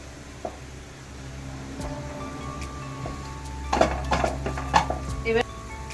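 Ground cashew and nut paste stirred in a cooking pan for a prawn rezala, a few metal spoon scrapes and clinks against the pan, close, over a soft background hum.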